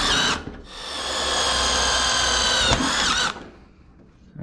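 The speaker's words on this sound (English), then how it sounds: "We're gonna drop in a few screws" A power drill drives screws into flexible air duct during an HVAC service call on a central AC system: one loud, close, steady whine lasting about three seconds with a brief dip, then quiet.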